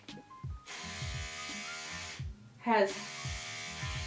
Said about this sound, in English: This toothbrush right here